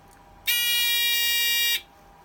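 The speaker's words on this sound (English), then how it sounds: "holding in the lift alarm" An Avire Memcom lift alarm buzzer sounds once, a loud, steady electronic tone held for just over a second, starting and stopping abruptly against a quiet background.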